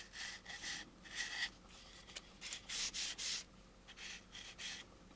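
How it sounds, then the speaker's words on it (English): Sandpaper rubs over a rough spot on a plastic U.S.S. Enterprise model kit in short, repeated back-and-forth strokes, each a soft hiss with brief pauses between, quiet and close, with no talking. "Try it with the sandpaper."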